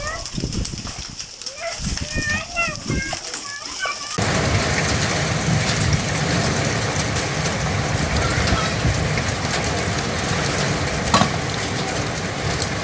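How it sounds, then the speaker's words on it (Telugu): Heavy rain during a thunderstorm in Narayankhed, Telangana: a dense, steady downpour roaring on surfaces, starting abruptly after a few seconds of quieter sound and continuing loud and unbroken to the end. "ఉరుములు మెరుపులతో కూడిన వర్షం పడింది"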